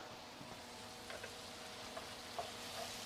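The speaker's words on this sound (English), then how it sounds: "let's go ahead and give that onion a quick stir" Onion and pork fry in a pan as they are stirred, giving a faint, steady sizzle with a few light scraping clicks from the utensil, with no talk.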